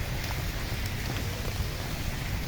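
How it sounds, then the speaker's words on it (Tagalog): Heavy tropical rain pours down in a steady, dense hiss over a flooded fishing spot, close and continuous, with no one speaking. "Lakas ng ulan."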